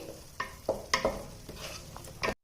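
Masala fries in a pan for Rajugari-style fish pulusu (fish curry): several distinct scraping stirs, close and moderately loud, over a soft background sizzle, stopping abruptly.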